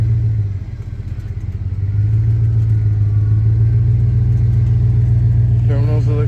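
A Chevrolet Silverado pickup engine revs on a flooded bridge, a loud steady low drone that dips briefly then holds strong, with a voice speaking near the end.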